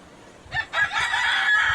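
Five-month-old Egyptian Fayoumi laying hens clucking and calling in a short burst, fairly close, with a couple of sharp squawks rising over a low background murmur.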